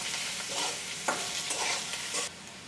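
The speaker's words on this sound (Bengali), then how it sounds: "আলুগুলো পেঁয়াজের সাথে ভালো করে ভেজে নেব।" Cut potatoes fry with half-fried onions in a pan, a gentle sizzle broken by a few scraping stirs of a spatula, close and quiet, with no voices.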